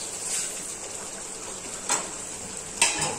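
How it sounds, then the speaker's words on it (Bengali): Spice paste for a cauliflower and egg gravy fries in a pan with a steady sizzle, and two brief scrapes of stirring break in near the middle and the end. "দেখো বন্ধুরা, মশলাটা একটু কষাবো"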